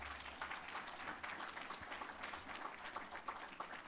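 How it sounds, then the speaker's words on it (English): Audience at a digital transformation summit in Diani applauding after a conference panel, a faint, even wash of clapping sustained throughout with no voices over it. "let's have a round of applause"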